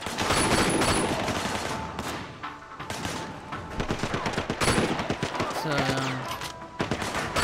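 Rapid bursts of gunfire in a Sleeping Dogs shootout, dense overlapping shots and machine-gun rattles that surge and ease throughout, with a faint voice underneath.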